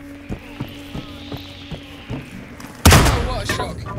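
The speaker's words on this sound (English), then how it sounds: "I heard gunshots." Gunshots in the video game Hitman: a run of evenly spaced, muffled thumps gives way to a sudden, loud, sustained burst of gunfire near the end.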